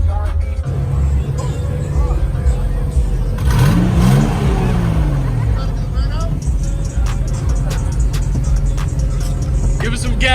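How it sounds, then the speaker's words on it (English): A two-tone Volkswagen Jetta at a rain-soaked car show revs its engine, a rising and falling vroom near the middle, under a steady background rumble with people talking nearby. "Give us some gas. One more time, Jay."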